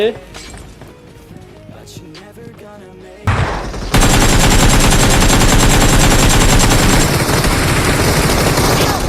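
Heavy automatic gunfire in the battle royale shooter PUBG Mobile, a dense continuous burst that starts abruptly and holds loud to the end, after quieter game sounds and a brief earlier shot; voices talk alongside.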